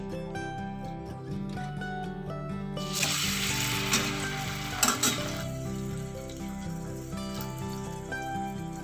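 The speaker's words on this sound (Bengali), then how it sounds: "এই তিন পিস মাছকে আমি এখন ভেজে নেব" Three pieces of fish coated in salt and turmeric fry in hot oil, a steady close sizzle that swells louder partway through, with faint background music and no talk.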